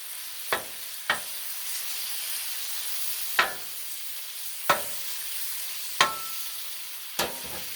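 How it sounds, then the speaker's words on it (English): Bacon sizzling on a Blackstone griddle, a steady crackling hiss broken by several sharp spatula scrapes and taps spaced a second or so apart, close and fairly quiet with no voices. "So, we got our bacon going. I'll get it a little crispy-fied."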